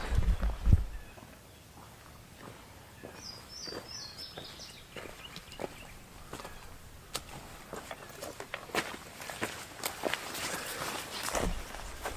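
Footsteps crunch outdoors across rural family land, a steady run of close, soft steps over a quiet background with a few faint higher chirps.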